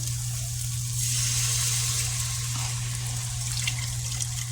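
Reduced-sodium beef broth pours steadily into a cooking pot for a birria, a continuous close liquid rush with a constant low hum underneath and no talking.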